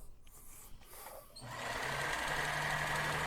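A previously stuck Kenmore sewing machine, freed up with WD-40, starts up after some faint handling clicks and then runs freely with a steady, continuous mechanical whir and hum at close range.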